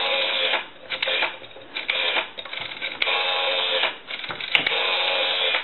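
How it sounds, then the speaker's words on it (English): Rotary dial on a cleaned and oiled Kellogg Redbar wall telephone turning and returning, a steady close mechanical whirr broken by short pauses between several spins. "We went ahead and went through the rotary dial, and I'll show you that."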